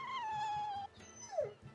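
Dogs in the video game Tales of Berseria give a drawn-out whining howl followed by a short rising yelp, fairly near, over a low rhythmic background.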